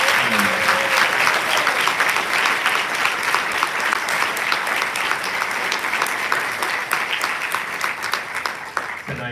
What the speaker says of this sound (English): I have one more round of applause for all of our incredible award winners this evening.